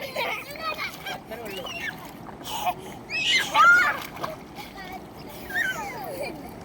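Water splashing and sloshing in short bursts near the microphone as a child learns to swim, with voices talking and calling out over the activity.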